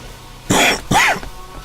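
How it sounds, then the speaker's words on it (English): Two sharp bursts of throat clearing and coughing from a podcast host, close to the mic and loud, spaced about half a second apart, followed by quiet room tone. "I'm probably going to cough, so please again forgive me."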